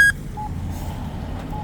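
A pedestrian crossing button at a traffic light gives short electronic beeps: a brief tone at the start, then quieter repeated beeps over low street background noise.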